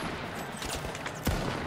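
Gunfire from the video game The Finals crackles in a quick, faint burst of shots, ending in one sharper report near the end.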